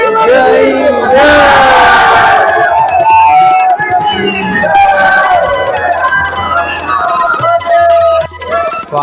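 Dense crowd of devotees at the Sarangpur Kashtabhanjan Hanuman temple, loud massed voices chanting and calling out together, close and continuous, with a surging roar of shouts and babble.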